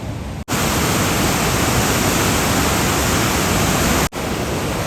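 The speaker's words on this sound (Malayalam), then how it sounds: "നല്ല ശക്തിയിലാട്ടോ വെള്ളം ഒഴുകിക്കൊണ്ടിരിക്കുന്നത്" The Chaliyar river in monsoon flood flows strongly past, a loud unbroken roar of rushing water with two brief cuts, no voices.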